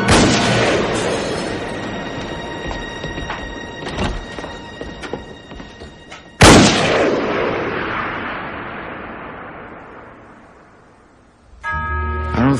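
A gunshot in a 1970s crime film scene, a booming report that rings out and decays over several seconds, followed by a second loud blast and a long fading tail.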